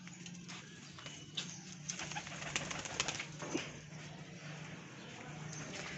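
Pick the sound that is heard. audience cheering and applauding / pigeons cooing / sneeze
pigeons cooing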